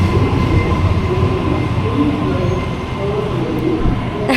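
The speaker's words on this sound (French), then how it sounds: "On est dans le train au final, ça y est." Interior of a moving train in Australia, a loud continuous rumble of wheels on rails with rattling carriage noise and occasional faint squeals, steady throughout.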